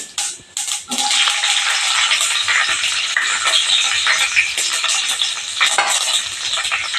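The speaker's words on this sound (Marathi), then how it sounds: "मोहरी टाकली चमचाभर चमचाभर जिरं टाकलं आहे ओली मिरची टाकणार आहे" Mustard seeds, cumin and green chili sizzle in hot oil for a Maharashtrian dal, making a loud, dense, continuous hiss with scattered crackles. A few quiet clinks come in the first second before the frying takes over, with no talk.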